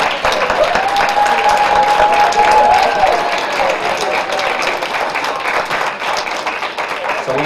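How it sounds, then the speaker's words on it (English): An audience at a youth activist panel event gives steady, dense applause for the panelists. The clapping holds at an even level throughout, with a faint tonal hum running through the first few seconds. "All right, let's give our panelists a round of applause."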